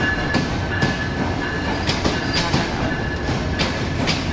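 A passenger train from Kurigram rolls past, a steady loud rumble of rail noise with repeated wheel clicks over the joints, close by and with no voices.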